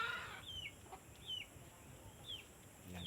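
Faint chicken clucks and short calls come at intervals over a quiet outdoor background, soft and somewhat distant.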